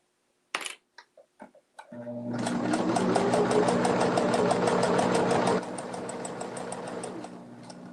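A few short clicks and taps give way to a home sewing machine running steadily while stitching a fabric bowl cozy, a loud rapid buzzing whir that drops slightly in intensity near the end before stopping.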